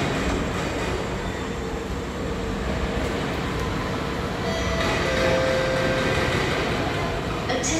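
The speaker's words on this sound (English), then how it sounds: "The train approaching platforms C and D is not for boarding." SMRT East West Line train approaching a station platform, a steady rumble of wheels on rail that swells slightly as it nears, with faint squealing tones near the end and no talk over it.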